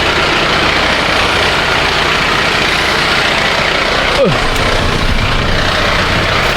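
A delivery truck engine idling at 2 a.m., a steady, loud low rumble that holds constant, with a brief sliding tone partway through.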